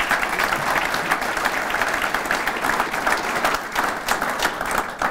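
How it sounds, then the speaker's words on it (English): An audience claps after a business presentation, a steady, dense round of applause from many hands that holds at an even level for about five seconds with no talking over it. "Let's give Mike another round of applause"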